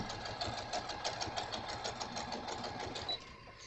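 A sewing machine top stitches fabric scraps together in a fast, even whirring patter at moderate distance, with a brief pause near the end.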